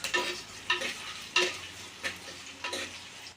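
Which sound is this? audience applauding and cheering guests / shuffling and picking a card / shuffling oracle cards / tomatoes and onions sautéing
tomatoes and onions sautéing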